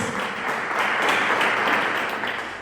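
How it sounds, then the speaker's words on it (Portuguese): Congregation in a Portuguese-language church service bursts into strong applause, a dense roar of clapping that swells slightly in the middle and holds steady. "Dê um forte aplauso"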